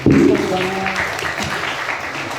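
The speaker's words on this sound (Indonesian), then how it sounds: "tepuk tangan dulu teman-teman" The audience at a talk show on the PSS Sleman football club claps in a short, brisk burst, loud at first and then thinning under murmuring voices.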